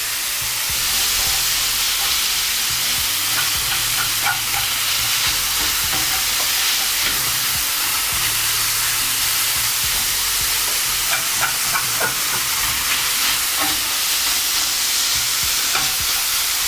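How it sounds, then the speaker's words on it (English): Garlic, peppers and onions sizzle steadily in a hot pan for pepper steak, a dense continuous hiss with occasional stirring scrapes and pops, close and loud without any talk. "You want to sweat those onions, peppers."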